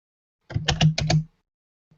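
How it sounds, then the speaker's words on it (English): Rapid bursts of loud computer keyboard typing at a desk during a SharePoint work session, several quick keystrokes clustered together, close and clear with no talking. "sorry about my keyboard being so loud, by the way"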